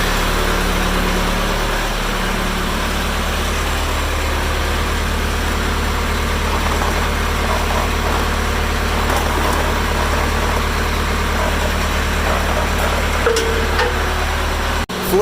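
A Case 580E backhoe's 4-cylinder Cummins diesel engine idling while warming up in snowy January weather, a loud, steady low rumble with constant vibration throughout, no voices.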